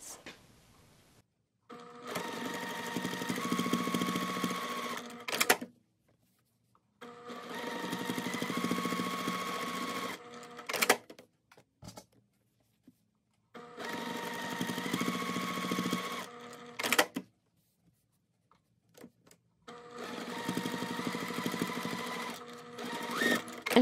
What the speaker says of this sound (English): now we are going to sew first along these two, and then we'll do a little rotation and catch the other seam